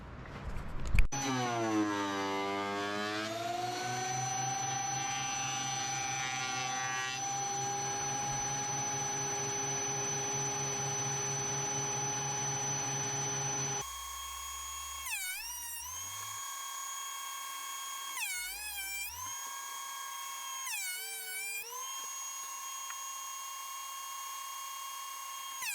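A woodworking machine hums steadily while flattening a solid cherry cutting board, a loud sustained whine that rises at startup, then shifts to a quieter drone with repeated brief dips and swoops in pitch.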